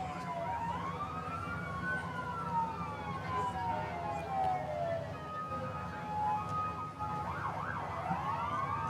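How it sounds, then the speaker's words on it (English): Several emergency sirens wail in the distance, their rising and falling tones overlapping continuously over a low ambient rumble, moderately faint and unbroken throughout. "Starting to catch wind of the sirens up there"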